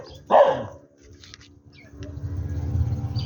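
A dog gives one loud, close bark, followed by quiet shuffling and then a low rumbling background.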